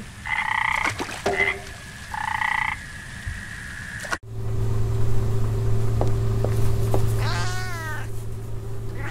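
Frog croaking in the video game Memoranda, heard as a steady low drone with a few short blips and a rising warbling call near the end, after a break in earlier tonal game sounds.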